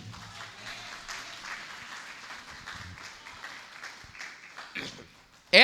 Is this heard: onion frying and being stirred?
no